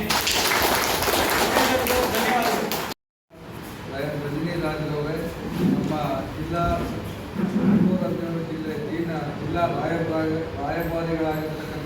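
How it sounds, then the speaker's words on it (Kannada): Audience applause at a Lions Club ceremony installing a women's rights activist as president for a fourth time: dense clapping fills the first three seconds, then a voice speaks over a busy hall with lingering crowd noise. "ಎಲ್ಲರ ಸಮ್ಮುಖದಲ್ಲಿ ಎಲ್ಲರ ಚಪ್ಪಾಳೆಯೊಂದಿಗೆ ಘೋಷಿಸುತ್ತಿದ್ದೇನೆ"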